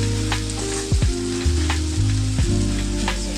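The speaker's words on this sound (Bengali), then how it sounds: "এই ধনে পাতাটা দিয়ে আমি এটাকে খুব ভালো করে নাড়াচাড়া করব" Lote fish curry with coriander leaves cooking in a pan, a continuous loud sizzle and bubbling with a few scraping stirs and knocks, close up, alone without voices.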